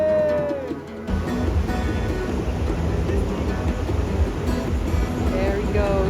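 Ocean surf breaks on a beach at Puerto Escondido in Oaxaca, Mexico, a steady, loud wash of waves and wind after a brief quieter opening, with a voice heard faintly at the start.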